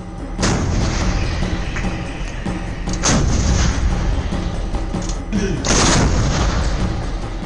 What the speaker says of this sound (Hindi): जिन तोपों को आप सामने पहाड़ी चट्टानों में दुश्मन रूपी लक्ष्य को भेदते देख रहे हैं